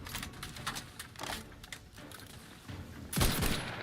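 Plasma grenades dropping and exploding in the video game The Outer Worlds 2: a run of crackling, rattling bursts, then a louder, closer blast near the end, all over game combat noise without speech.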